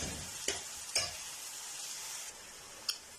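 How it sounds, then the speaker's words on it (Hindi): Onions fry toward golden in a pan with a soft, steady sizzle, broken by a few sharp scrapes and taps of a spoon against the pan, faint and close, with no talk. "प्याज को हल्का गोल्डन होने तक जो हमने फ्राई करना है"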